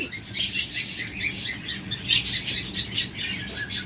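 A pair of blue budgerigars, sold as lovebirds, keeps up a steady run of close, bright chirps and tweets, dense and continuous with no voices.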